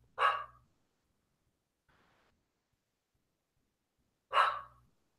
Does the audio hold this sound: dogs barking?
yes